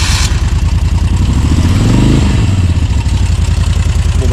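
A Moto Guzzi 1000 California II motorcycle engine runs close by with a loud, even chugging beat that swells briefly as it revs midway, then settles back to a steady idle.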